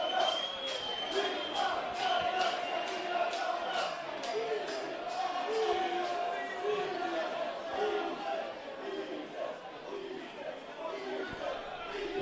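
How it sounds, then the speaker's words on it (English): A crowd at an amateur football cup final cheers and chatters in a lively, continuous wash, with rhythmic thumping and scattered shouts under commentary. "Hear the cries from the crowd as their promotion well and truly appreciated in these parts"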